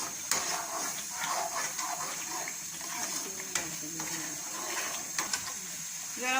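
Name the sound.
sugar syrup bubbling in pan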